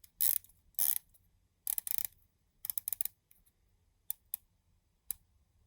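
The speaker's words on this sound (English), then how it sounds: "aluminium bezel, 120 clicks" An Edox Delfin Fleet 1650 vintage-style diver's watch with a stainless steel case has its 120-click aluminium bezel turned: short bursts of rapid, crisp ratchet clicks, then a few isolated single clicks, close and alone.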